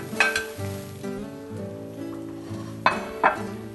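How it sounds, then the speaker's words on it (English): Three eggs cook softly in a pan with cheese for breakfast tacos, giving a light, quiet sizzle with a few brief clinks and scrapes as they are moved around, with a faint tonal background. "Now we've got our eggs going here."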